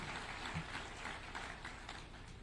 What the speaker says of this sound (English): I still want to ask all of us to give them a round of applause